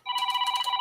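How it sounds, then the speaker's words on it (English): A telephone rings out once in a short, loud electronic trill with steady bright tones, alone and close by with no talking over it. "Oh, phone's ringing."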